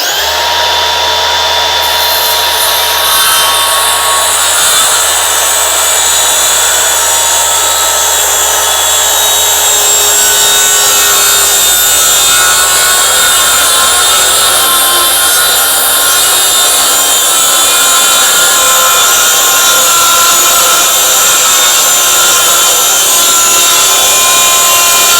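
A saw cutting through a wooden door, close and very loud, with a continuous rasping whine that runs without pause for the whole stretch.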